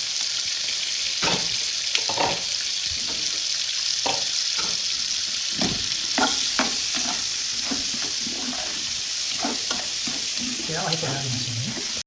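Beef chuck sears in hot fat in a pot, a steady loud sizzle with repeated scraping and stirring clatters, and a voice speaking briefly near the end.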